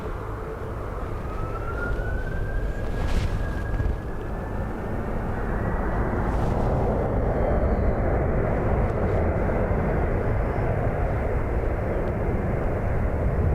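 At Dublin Airport during Storm Bram, a steady loud roar of wind and airliner engines fills the scene. A rising engine whine climbs near the start, then a broad continuous rumble carries on to the end.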